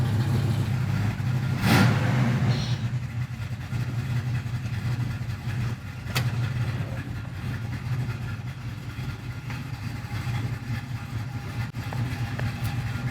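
A 1980 Camaro Z28 V8 rumbles steadily at a low idle, close and loud, with one sharper blip of revving early on and a brief click later, and no voices.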